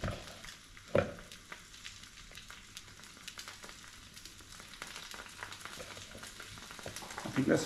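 Panackelty cooks in a pan with a faint, steady sizzle, with scattered crackles and pops, a single thump early on and a slightly louder clatter near the end.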